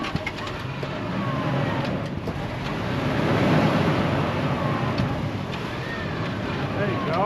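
A truck stuck on a mountainside revs its engine in a steady, rough roar that swells louder through the middle and then holds, with people talking over it.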